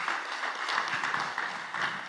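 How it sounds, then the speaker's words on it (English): Audience at a panel session on accountants and economies applauding the panelists, a dense, steady patter of many hands clapping at moderate distance throughout. "Can we give a round of applause to all the panelists?"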